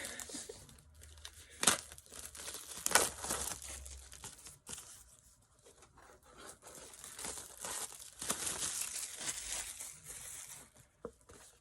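Plastic packaging crinkles and crackles close by, in irregular bursts with a few sharper snaps and quieter gaps between.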